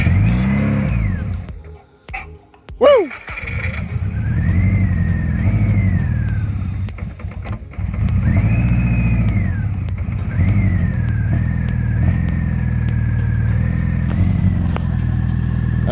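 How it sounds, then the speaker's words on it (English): A naturally aspirated Subaru 2.5L engine with a custom straight-pipe X-pipe exhaust cranks, fires up and revs repeatedly, loud and close, with a rough burbling idle between rising pulls and a brief shout. "He's starting the car."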